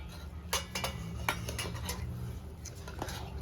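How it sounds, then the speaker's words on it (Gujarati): A pot and metal utensils clink and scrape while Maggi noodles are tempered on a stove, with several sharp knocks and stirring over a low steady hum. "તો ફેમિલી આ રીતે મેગી વઘારી દેવાની"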